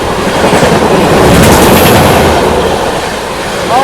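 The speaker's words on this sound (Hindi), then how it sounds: "मऊ आनंद विहार सुपरफास्ट इटावा जंक्शन पे बैक टू बैक 2 ओवरटेक।" The Mau–Anand Vihar superfast train rushes past at Etawah Junction, a loud, close, continuous rumble of wheels and carriages with a faint squeal near the end.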